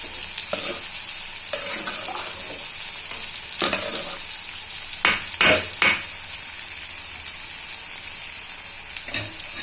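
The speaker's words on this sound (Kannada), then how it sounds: "ಎಣ್ಣೆಯಲ್ಲೇ ಚೆನ್ನಾಗಿ ಬೇಯಿಸ್ಬೇಕ್ರಿ." Food sizzling and frying in oil in a pan, a steady hiss with sharp bursts of stirring scrapes scattered through, near and alone with no voices.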